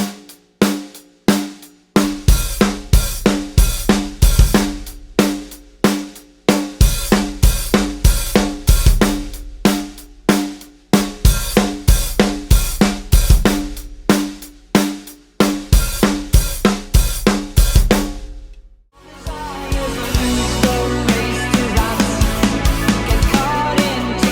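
A drum kit plays a steady groove in 7, hi-hat with kick drum, sharp repeated hits with strong low thumps, loud and close, then shifts to a denser, busier pattern near the end.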